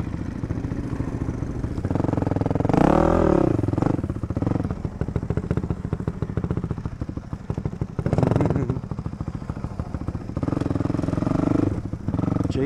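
A 450X dirt bike engine drones loudly while riding on trails, rising in pitch on two strong throttle pulls and clattering at lower revs between them.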